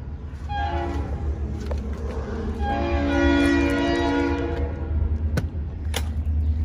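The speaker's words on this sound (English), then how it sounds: "Here comes the comes the train." A passing train sounds its horn in long, loud, sustained blasts over the rolling rumble of railcars, heard outdoors beside a horse trailer, with a few sharp knocks near the end.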